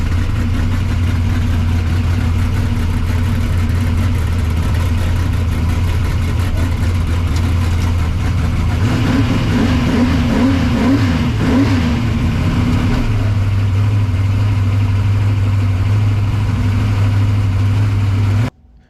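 A drag car engine idles with a deep, loud rumble while rolling up to the burnout water box, rising briefly into a louder revving surge midway before settling back to a steady lope, then cutting off abruptly.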